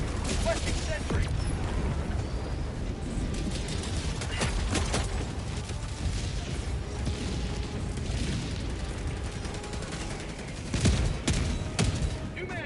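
Sustained automated fire from a deployed sentry gun in a shooter game, a dense rattling stream with a few heavier booms, mixed with mechanical clatter and spoken voices.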